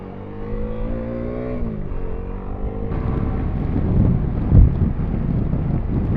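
A Bajaj Dominar 400 motorcycle fitted with an iridium spark plug, its engine rising in pitch as it accelerates and then settling into a rough rumble under heavy wind noise while riding.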